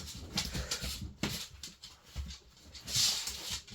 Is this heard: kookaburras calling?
no